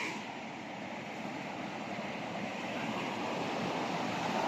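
Strong ocean waves surge and wash in a steady, dense roar that builds slightly toward the end, with wind noise on the microphone and no voices.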